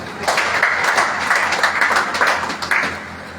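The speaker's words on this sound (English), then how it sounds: "I think you will clap." An audience at a gathering of high-ranking chiefs in Owo, Nigeria, claps steadily for about three seconds, a dense, fairly loud wash of many hands with no speech over it.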